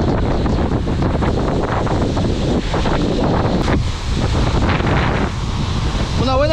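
Strong coastal wind at Ica during a rod-and-reel fishing outing, roaring continuously and buffeting the microphone, loud and unbroken, with surf faintly beneath.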